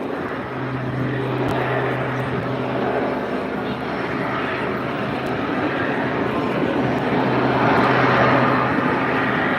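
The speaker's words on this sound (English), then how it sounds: "The airplane is rotating one way and the propeller's going the other way." A propeller airplane performs a torque roll at the Bray Air Display 2025, its engine droning steadily and loudly for the whole stretch amid outdoor crowd noise.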